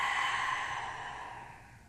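A single slow, deep exhale during a yoga pose, a soft airy breath that fades over about two seconds, close and quiet.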